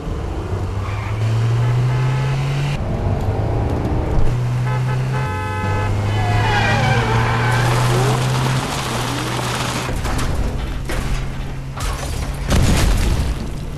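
A car swerves off the road into a ditch in a movie scene, with engine roar, horn toots, thuds and rain-like hiss, backed by loud sustained music tones.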